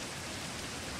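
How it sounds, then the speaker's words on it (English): Steady rain hisses in the video game Diaries of a Spaceport Janitor, a dense, even wash of noise with no breaks and no voices over it. "Raining."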